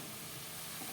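Boiled field beans are stirred in a hot cooking pan, giving a steady close sizzle and soft scraping throughout, with no talking.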